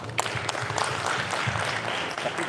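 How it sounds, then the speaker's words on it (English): Audience applause at an academic lecture on regional nationalism and globalization backlash, a steady wash of clapping from many hands filling the room for the whole stretch, fairly loud and unbroken. "Let's clap on that."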